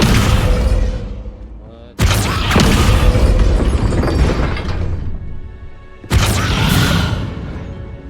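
Descendo spell impacts in the video game Hogwarts Legacy: three loud crashing booms with shattering debris, each striking abruptly and decaying over a few seconds.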